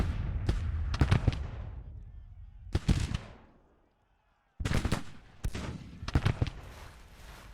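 Civil War artillery cannon fire in a strategy video game: repeated sharp, loud booming blasts in clusters, with one short silent gap before more volleys follow.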